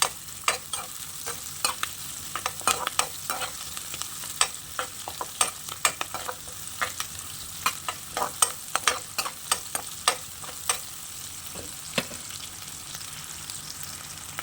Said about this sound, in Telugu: బ్రౌనిష్ కలర్ వచ్చేంత వరకు ఫ్రై చేసుకోవాలి